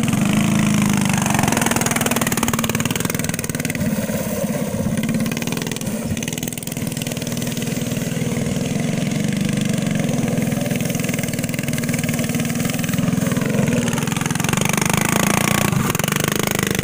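Engines rev in a drag race at a custom shop, a loud, steady mid-pitched motor drone that holds for the whole stretch with slight swells in pitch.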